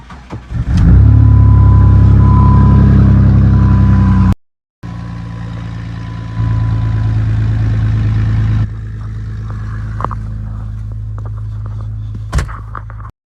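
Jeep Grand Cherokee WJ engine cranking and firing up loudly, revving hard for a few seconds, then cutting out briefly before restarting and settling into a steady, rumbling idle with a couple of sharp knocks near the end.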